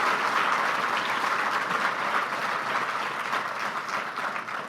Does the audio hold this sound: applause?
yes